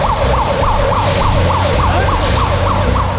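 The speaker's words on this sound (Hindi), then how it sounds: "सड़कों पर देर रात तक पुलिस सायरन बजते रहे।" Police sirens wail on city streets at night in Dadri, Uttar Pradesh, a steady rapid warbling that repeats about ten times in three seconds, loud and continuous over a constant rumble of traffic.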